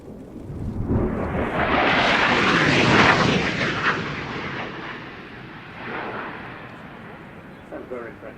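A military jet makes a fast fly-by at an aviation show, a loud roaring rush that swells and peaks, then fades as the aircraft passes, with a commentator talking over it.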